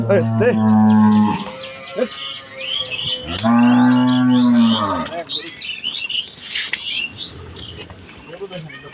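A cow moos loudly twice, long drawn-out lows close by, with faint background chatter and farm noises.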